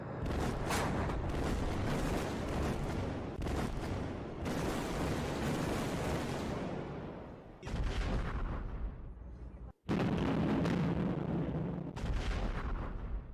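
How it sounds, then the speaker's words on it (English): Missiles exploding in a violent barrage at a military equipment depot in the Zaporizhzhia region, a loud, continuous roar of booms and blasts with only brief breaks, the rumble sustained throughout. "The missiles exploded in a startling, violent barrage."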